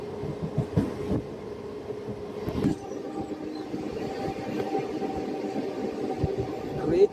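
A MEMU commuter train rolls along the rails between Karimnagar and Sirpur Town, a low, fairly quiet rumble broken by scattered clacks and knocks.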